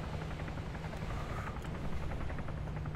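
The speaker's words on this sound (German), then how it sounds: "Da ist ein Hubschrauber irgendwo." A helicopter in the video game Arma 3 drones steadily at a distance, its rotor hum continuous and even throughout, with no talking over it.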